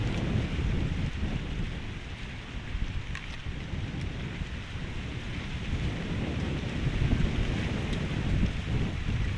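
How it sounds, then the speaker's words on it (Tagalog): A steady, broad rush of wind blows without a break across a fish pond, a soft continuous roar with slight swells in strength. "Hangin."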